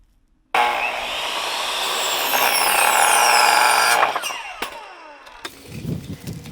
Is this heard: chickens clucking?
no